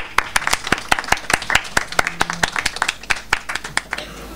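Sparse, scattered handclaps from a small audience at a poetry slam, individual claps distinct and uneven rather than a dense roar, continuing steadily for a few seconds.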